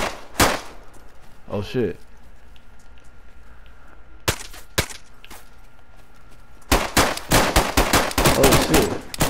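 Shooter video game gunfire: a few isolated shots early on, a quick pair in the middle, then a rapid, loud burst of automatic fire near the end, with a man exclaiming briefly.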